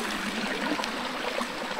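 Small river rapids rush and gurgle close by, a steady broadband wash of flowing water with no voices present.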